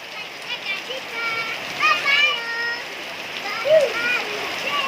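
Steady splashing and pattering of rain with children's voices calling and chattering over it, close and lively.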